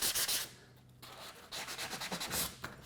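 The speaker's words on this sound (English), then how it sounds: "Just getting the rough edge sanded down." Hand sanding along the rough edge of a wooden butcher block countertop, quick scratchy back-and-forth strokes in short bursts with a brief pause between, close and fairly quiet.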